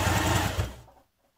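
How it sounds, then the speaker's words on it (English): A sewing machine top-stitches around a fabric belt with a brief, close mechanical whir that runs for under a second and then cuts off into silence. "So now top stitch around your belt."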